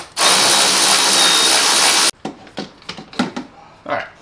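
A power tool whirs loudly and steadily for about two seconds, driving out 10mm bolts on a Corvette Z06, then cuts off abruptly. Close-up talking follows along with a few light clicks.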